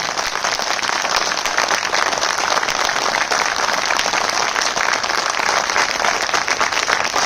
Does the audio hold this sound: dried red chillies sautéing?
no